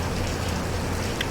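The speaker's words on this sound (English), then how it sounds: "sort of doing this like outside in the rain right now" Steady rain pours outdoors as heard from beneath a roof shelter, a dense, loud, even hiss of drops with no pauses and no voices.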